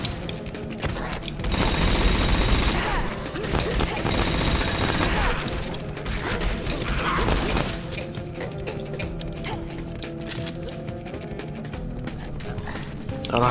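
Video game gunfire in Final Exam, a dense run of rapid shots that builds loudly, then thins into scattered hits and mechanical clatter, with some talk mixed in.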